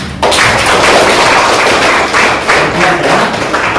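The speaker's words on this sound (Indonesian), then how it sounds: "Sekali lagi kita beri aplaus kepada teman Bima." A classroom of students applauding a classmate, a dense burst of many hands clapping loudly and steadily after a sharp start, with no talking.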